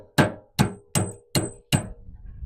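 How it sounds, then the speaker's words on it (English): A hammer taps a shear pin through a Bush Hog mower with five sharp, evenly spaced metallic strikes, each ringing briefly before the next, loud and close. "Got the hammer. I'm just going to tap this through now"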